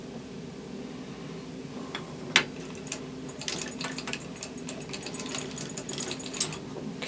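Hand-crank sock knitting machine cranked a little at a time, giving soft, fairly quiet mechanical clicking and rattling of needles in irregular bursts, with one sharper clack near the start, over a low steady hum.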